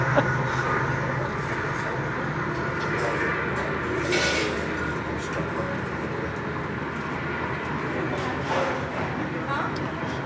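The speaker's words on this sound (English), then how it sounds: "there's another train" A long freight train of old boxcars, coil cars, a tanker and grain hoppers rolls past at a steady level, heard from nearby with occasional louder rattles and a voice talking over it.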